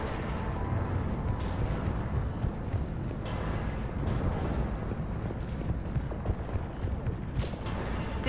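Heavy cannon fire in the Mass Effect 3 game, a dense, continuous rumbling roar of booming blasts and mechanical creaking, loud and unbroken throughout.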